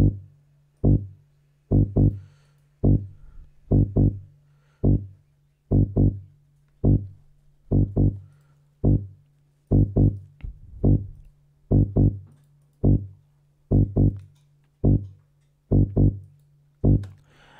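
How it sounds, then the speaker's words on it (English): Synth bass line built with FL Studio stock plugins for an Afro tech house track, a deep punchy note pulsing in a steady rhythmic pattern of short repeated hits, clean and alone with no voices. "I actually started with this bass line, and it sounds like this."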